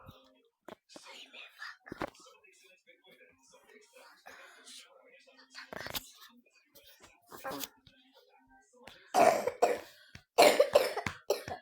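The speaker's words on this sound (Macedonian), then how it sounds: "Брат ми кашла." Soft whispering and faint murmurs, then a cluster of harsh, fairly close coughs near the end.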